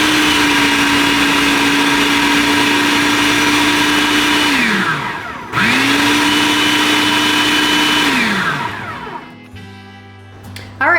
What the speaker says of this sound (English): Now we're going to blend this.